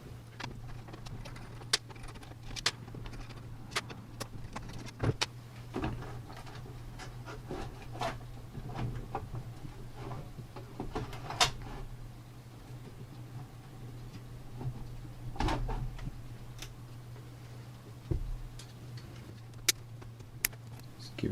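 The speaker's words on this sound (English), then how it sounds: "just take the screws off the power supply and slide it back so I can actually see through" Screws being taken out of a computer power supply, which is then slid back: scattered small metallic clicks and light knocks at irregular intervals over a constant low hum.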